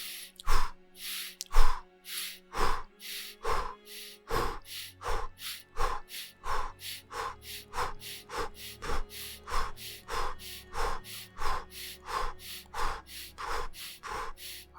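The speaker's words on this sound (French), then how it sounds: "On va faire une série de petites inspirations et expirations rapides." Quick, shallow upper-chest breaths in a guided rapid-breathing exercise: a steady, even run of short, sharp inhales and exhales, close and clear, with no talking.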